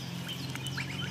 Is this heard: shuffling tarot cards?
no